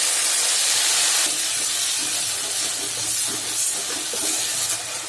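Onion, ginger, garlic and green chilli frying in a pan after fish, a steady loud hissing sizzle throughout with small crackles, no talk.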